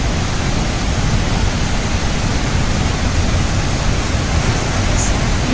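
A waterfall near Gondar village on the Madhyamaheshwar trek roars in a loud, dense and steady rush of falling water, close by and with no other sounds.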